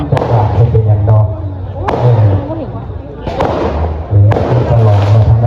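Fireworks crack and bang outdoors during a Buddhist celebration in Laos, with four sharp loud bursts spread over a few seconds above a steady hum of crowd and background noise.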